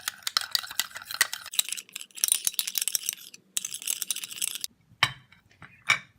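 Aloe vera gel being stirred into a thick orange cream in a bowl, with quick repeated clinks and scrapes of a spoon against the container, close and fairly quiet, broken by short pauses.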